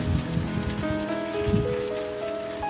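Red amaranth leaves tossed into a hot pan with split green chillies give off a dense, close crackling sizzle that runs continuously, with faint tonal kitchen sounds in the background.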